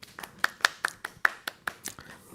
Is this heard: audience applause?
yes